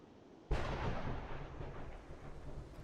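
Ominous thunder in the video game Final Fantasy XIV: a sudden rumbling crack that rolls on and slowly fades, fairly quiet overall with no talking.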